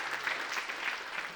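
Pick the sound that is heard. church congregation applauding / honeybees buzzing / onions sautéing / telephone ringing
church congregation applauding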